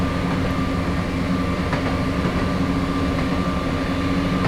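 A simulated Class 170 diesel train on the Perth to Dundee route runs steadily, with a continuous rumbling drone and a faint electrical whine, even and unbroken throughout.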